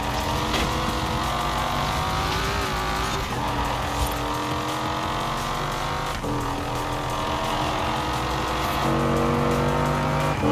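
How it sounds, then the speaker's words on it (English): A Lexus LFA racing on a circuit in the video game Forza Horizon 4, its engine holding a loud, continuous high-pitched wail with shifting revs and brief gear-change dips over ten seconds. "I love how the engine sounds in the car."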